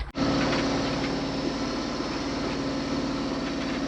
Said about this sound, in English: as you can probably hear, the engine's on.